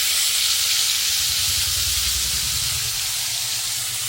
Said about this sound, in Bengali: কড়াইতে তেল আর একটু কালো জিরা, আর এখানে তোমরা সাদা জিরাও দিতে পারো, আর একটু দিয়েছি তেজপাতা